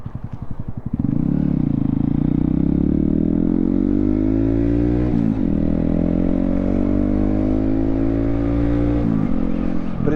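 A Honda Grom motorcycle pulls away and rides on, its small single-cylinder engine buzzing loud and close, revving up through gears with brief dips at shifts.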